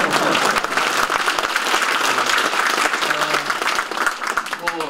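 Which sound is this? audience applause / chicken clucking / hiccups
audience applause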